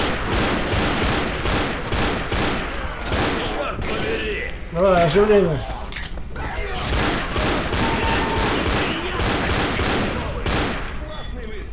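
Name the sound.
gunfire in the video game Left 4 Dead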